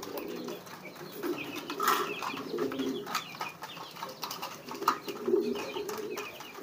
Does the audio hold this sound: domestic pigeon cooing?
yes